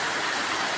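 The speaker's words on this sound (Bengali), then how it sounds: "অনেক বৃষ্টি হচ্ছে।" Heavy rain falls in a village as a dense, steady hiss of drops, loud and continuous with no pauses, filling a very short moment.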